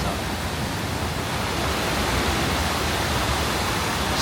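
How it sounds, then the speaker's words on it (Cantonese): A strong waterfall in Fukuoka, Japan pours with a loud, dense, unbroken roar that fills the whole stretch, near and steady with no voices. "我呢個瀑布啲水都幾勁"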